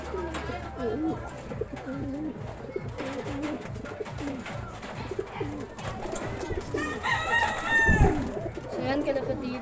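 Pigeons in a breeder's loft coo and burble continuously, with several birds close by, and one sharp louder call stands out near the end. Faint talk sits underneath.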